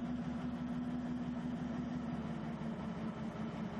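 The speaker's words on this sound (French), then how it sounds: "On démarre le moteur" A propane-powered forklift engine runs at a steady idle, a continuous low hum with a strong droning tone, close and unchanging throughout.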